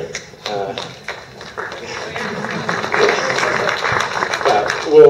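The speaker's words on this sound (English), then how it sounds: "We'll give you a moment for a round of applause." Audience applause at a university panel discussion on plastic in the ocean, scattered claps that build into fuller clapping with a voice talking over it.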